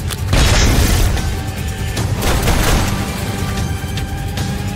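A heavy cinematic explosion boom from a 2020 Hollywood action thriller trailer, starting with a sharp loud blast that rolls into dense rumbling debris and lingering low roar, no voices over it.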